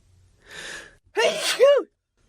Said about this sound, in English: Am I going to sneeze?